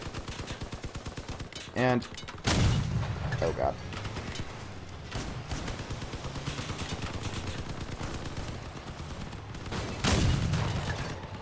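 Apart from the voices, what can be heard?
vehicle cannon firing in the video game Crossout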